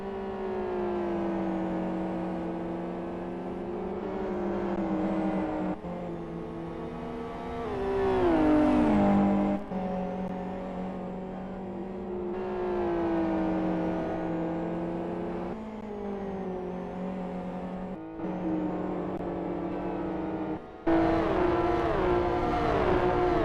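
Engines of GT race cars in a racing video game whine at high pitch, rising and falling through gear changes and braking across a continuous stretch of racing noise, and no one speaks.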